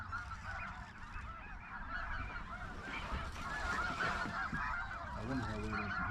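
A flock of geese honks continuously during an Arkansas duck hunt, overlapping calls rising and falling at moderate distance over steady outdoor background noise.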